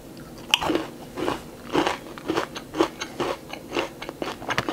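A peanut butter and chocolate snack is bitten and then chewed close up, giving a run of about a dozen crisp crunches in steady rhythm with no talking.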